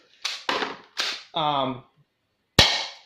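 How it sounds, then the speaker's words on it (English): Gel blaster pistol firing water crystals into a box: several sharp close snaps in quick succession, a short buzzy mechanical whir, then one more crisp shot after a pause. "I'll just shoot into the box because basically because like these only shoot about maybe 8 to 10 meters if lucky"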